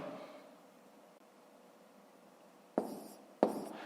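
Numbers handwritten on paper in a fifth-grade maths exercise produce faint scratchy strokes, followed by two short, sharper pen or paper taps near the end, close and alone with no voice.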